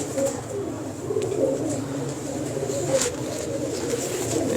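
Pigeons coo in a loft in Lahore, with soft, low, repeated calls that run steadily and overlap under faint background noise.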